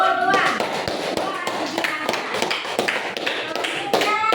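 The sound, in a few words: clapping for a presenting group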